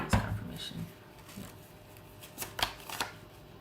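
Tarot cards are shuffled and handled for a reading, with a few sharp riffles and flicks, close and moderately loud, separated by quieter pauses, and a voice briefly present.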